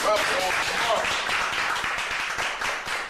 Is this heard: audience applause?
yes